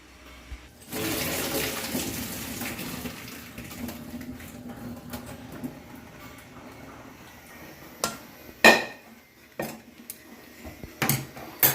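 Water from boiled elephant foot yam pours and splashes through a strainer in a steady rush, then the strainer and pot knock and clatter loudly a few times near the end.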